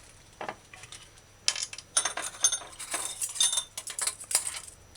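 A utensil clinks and scrapes against a bowl in bursts while a sauce with cornstarch is stirred and whipped up for chicken and cauliflower in oyster sauce, close by with no talking.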